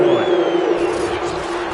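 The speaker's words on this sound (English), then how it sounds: "Plenty of shouts from this crowd as they watch the replay" A stadium crowd shouts during a football replay, a dense roar of many voices holding a steady loud level through the brief moment.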